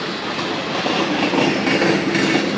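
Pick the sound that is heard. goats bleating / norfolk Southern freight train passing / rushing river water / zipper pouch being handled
norfolk Southern freight train passing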